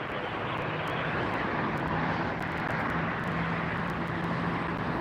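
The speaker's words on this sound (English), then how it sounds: "Spirit Airlines 2686 coming in from Vegas," A Spirit Airlines Airbus A320 arriving at LAX from Las Vegas makes a steady, fairly loud jet roar that holds evenly throughout, with a faint low hum beneath and no talk.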